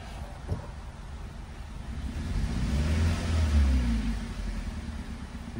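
Hyundai Accent 1.4 with a misfiring cylinder, its engine droning low and rough nearby, swelling as it revs up midway and then settling back, uneven rumble with no voices over it.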